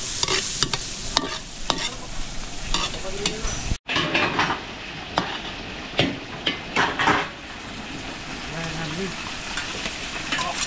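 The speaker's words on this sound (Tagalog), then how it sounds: "papupulayin ko lang yung bawang sibuyas na ito" Garlic and onion sautéing in cooking oil in a pan, a steady crackling sizzle punctuated by repeated spatula scrapes and stirring clatter against the metal.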